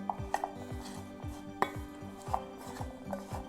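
Coarsely chopped chestnuts are stirred together with half a teaspoon of flour in a bowl for a chestnut cake, giving a quick run of scrapes and sharp clinks of spoon against bowl, close and fairly quiet, with no one talking.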